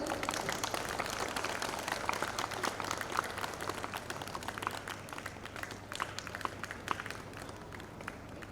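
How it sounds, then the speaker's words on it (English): Sustained audience applause fills a seminar hall during a Navaratri puja event, dense continuous clapping at steady loudness with a low hum beneath and no talk over it. "Big round of applause."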